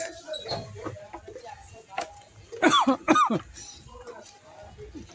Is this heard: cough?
yes